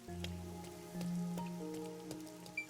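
Steady rain falls in the video game Master Detective Archives: Rain Code, a soft continuous patter on surfaces beneath eerie game music with sustained tones, moderately quiet and without speech.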